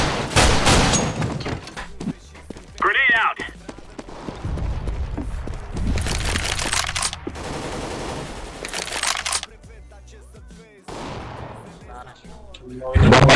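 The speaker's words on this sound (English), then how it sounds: "Grenade out." Loud video game gunfire and a grenade blast arrive in heavy bursts separated by quieter gaps, with some voice chatter mixed in.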